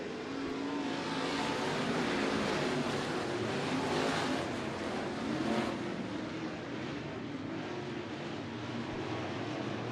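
Race cars lap the Bakersfield Speedway track during the Budweiser Nationals, a continuous broad engine roar that swells and fades slightly as the pack passes, heard from a moderate distance.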